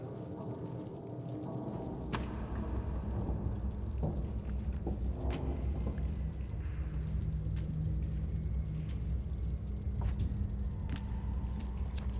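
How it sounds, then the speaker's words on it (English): Rain patters steadily on a coat in the dark video game Little Nightmares, with a low rumbling bed and scattered sharp drips and taps throughout, no voices. "Sound of that rain dripping on her coat."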